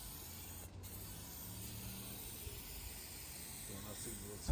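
A spray gun lays a thick coat of paint on a car out in the street, a faint, steady airy hiss that runs on unbroken with a low rumble beneath it.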